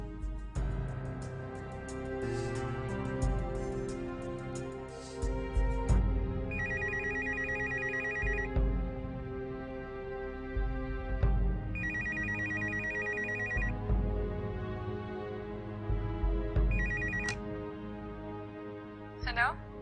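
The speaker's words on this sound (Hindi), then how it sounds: "बाबा जरा इस नंबर पे फोन करो और शहीद साहब का पूछ लें" Telephone ringback tone on an outgoing call: repeated electronic ring bursts in a steady on-off rhythm, fairly close, with background music and some talk around it.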